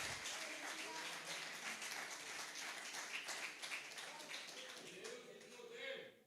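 Church congregation applauding during a sermon: dense, continuous clapping from many hands filling the room, fairly distant and even, fading slightly at the end, with a voice faintly underneath.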